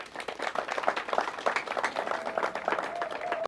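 Applause from an audience at a ceremony for a drinking-water borehole in Soumo, Congo, a steady wash of many hands clapping throughout, with a faint tone running underneath.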